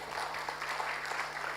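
Brief burst of audience clapping at a statistics survey launch event, a dense wash of hands filling the hall without pause.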